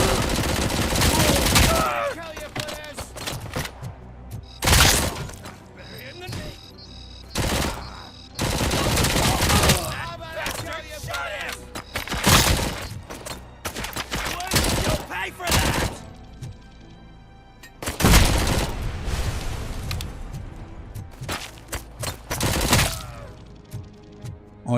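Heavy gunfire in the first-person shooter RoboCop: Rogue City, with loud bursts of rapid shots and cracks broken by short pauses, mixed with game sounds and occasional voices.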